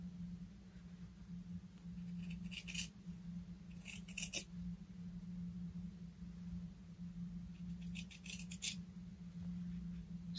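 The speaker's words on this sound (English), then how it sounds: "And then I'm going to trim just a little bit of the seam allowance." Fabric shears snip the seam allowance on a sewn tunic's bias binding, with short bursts of crisp close cuts in three separate clusters over a steady electrical hum.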